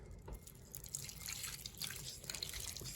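Water poured into the water pan of a new smoker while a roast smokes, a steady close trickle and splash with dripping, no speech.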